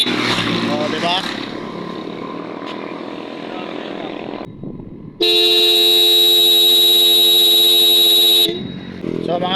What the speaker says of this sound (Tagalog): kung gusto nyo ng ganitong busina, pang tricycle, no? Parang tunog Fortuner